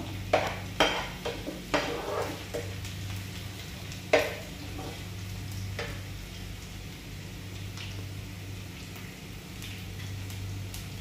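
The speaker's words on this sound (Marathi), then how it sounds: "कांदा मातशी भाजून ये बरो." A pan sizzles softly as onion roasts for vada pav, with a few sharp spatula or utensil clicks early on against a low steady hum from the kitchen.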